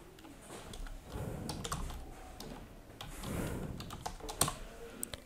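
Computer keyboard typing while entering a CSS class in WordPress settings, rapid bursts of close, soft key clicks separated by brief pauses, with one sharper keystroke near the end.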